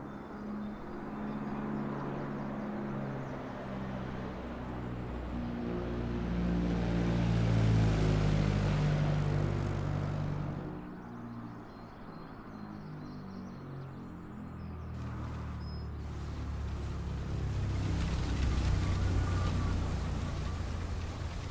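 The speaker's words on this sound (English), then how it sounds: "So we run the engine, we'll run at about 1200 RPM." The propeller engine of a PA28 Warrior II idles steadily at low RPM in Microsoft Flight Simulator. Its droning hum swells and eases, then rises again, with no talking over it.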